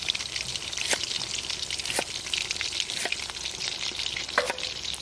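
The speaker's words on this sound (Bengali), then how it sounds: "চিংড়ি মাছ আমাদের কোপ্তা ভাজা হয়ে গেছে" Prawn koftas fry in hot oil in a village kitchen, giving a steady loud sizzle with sharp crackling pops and occasional stirring scrapes, and no talking.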